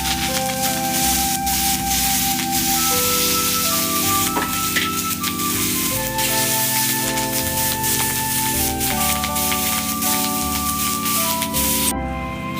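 Mustard seeds, curry leaves and green chilies sizzle and crackle in hot oil for a tempering, with a steady loud frying hiss and light stirring throughout, while soft music plays underneath.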